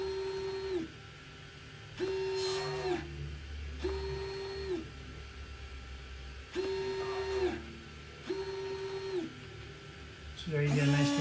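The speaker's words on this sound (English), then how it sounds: "Here's the new winch." A newly upgraded winch runs in repeated bursts of roughly a second, each a steady motor whine starting and stopping in an even rhythm, fairly close. Quiet pauses separate the bursts, and a clatter comes at the end.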